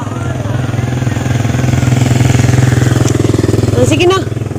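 A motorcycle engine runs steadily with a loud, throbbing idle, close up, with a brief rev or shift in pitch near the end.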